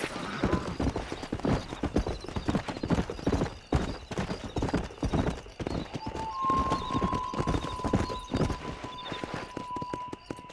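Horse hooves clip-clopping at a steady galloping rhythm while riding in Red Dead Redemption, close and continuous, with a whinny and a sustained tone partway through.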